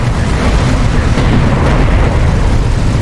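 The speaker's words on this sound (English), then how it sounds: "Red alert, command carrier taking fire." Heavy explosions rumble around a command carrier under fire in Homeworld: Deserts of Kharak, a loud continuous low booming barrage with no clear gaps between blasts.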